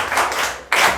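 A classroom group claps for a student, a short burst of hand claps that fades and then picks up again partway through.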